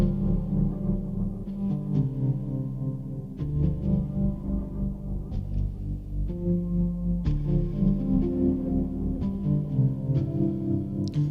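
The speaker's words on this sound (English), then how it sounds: "it made the piano sound like this" Slow, ambient piano chords run through halftime, reverb, vinyl crackle and pitch-bend effects, sustained tones shifting in pitch over a soft bed, with no voices.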